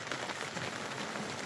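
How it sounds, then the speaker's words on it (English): Steady rain patters on a boat's bimini top during an early morning on a camping trip in Alberta, a dense, continuous hiss of drops close overhead. "6:30 in the morning, and the rain has come."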